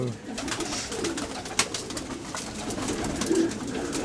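Pigeons coo in soft, low repeated calls against a busy background with clatter and faint chatter.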